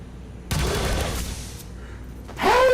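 Burst of soldier gunfire in XCOM 2, a dense rapid volley that erupts loudly and rattles on for nearly two seconds, followed by a rising whine or ricochet-like effect at the end.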